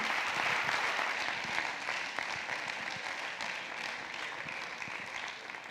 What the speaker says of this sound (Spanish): Damos un aplauso a Ainhoa.